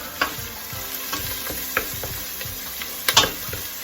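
Onion frying in a soup pot, a steady close sizzle with intermittent stirring scrapes and a few sharper clinks, no talking.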